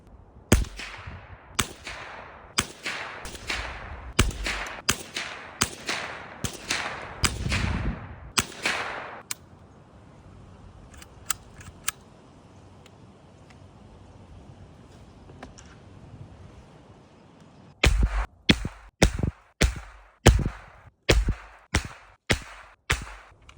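Federal Auto Match .22LR rounds fired in a fast string of sharp, loud cracks, a dense burst of about a dozen shots, a quiet pause with a few faint distant pops, then another rapid burst of shots.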